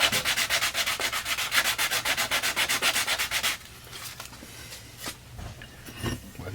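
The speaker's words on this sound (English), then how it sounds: "There's a piece of sandpaper." Sandpaper rubs back and forth over a wooden hatchet handle, a fast rhythmic rasping of about a dozen strokes that stops partway through, leaving quiet handling noises and light knocks.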